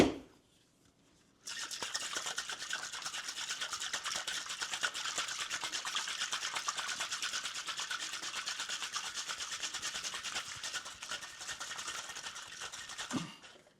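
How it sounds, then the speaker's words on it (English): Cocktail ingredients with cognac are dry shaken in a shaker, giving a continuous fast rattling and swishing that starts abruptly after a quiet moment and stops near the end. "You're going to dry shake all of the ingredients first."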